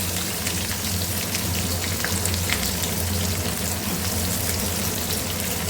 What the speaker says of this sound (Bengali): পেঁয়াজগুলো ভেজে নিই ব্রাউন হওয়া পর্যন্ত